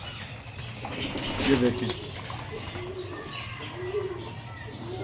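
Domestic pigeons of a bred bloodline coo softly close by, with a few chirps and brief wing flaps, while someone speaks over them.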